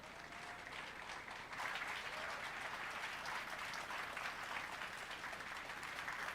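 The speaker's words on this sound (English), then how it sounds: "when people clap before you said anything" Audience applause for a keynote speaker at a Linux and open-source conference hall, a steady wash of many hands clapping that swells louder after the first second and a half and holds continuously, fairly distant and roomy, with no speech over it.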